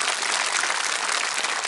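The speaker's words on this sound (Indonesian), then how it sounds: "Tepuk tangan untuk Tuhan Yesus." Congregation at a church service in Ajibata clapping, a dense, loud, continuous wash of many hands with no voices over it.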